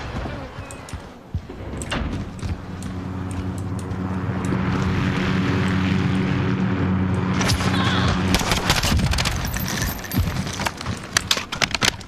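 Care package delivery aircraft approaching in Call of Duty Modern Warfare, a rising propeller drone that swells to a loud steady roar, then fades into clattering game effects and scattered impacts.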